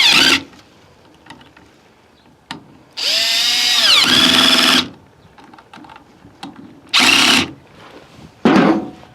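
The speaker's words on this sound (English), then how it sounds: "we'll just get our Phillips head, and we'll tighten the carburetor down onto the machine" A power screwdriver tightening a carburetor onto an Echo string trimmer, heard as loud whirring bursts of varying length separated by quieter clicks and handling noise.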